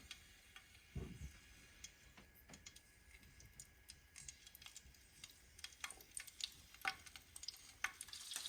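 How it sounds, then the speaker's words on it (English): Two jalapeño chilies roast in a hot pan, giving a soft, steady sizzle with scattered light crackles and pops, plus one brief louder low bump near the start. "just roast these 2 jalapenos"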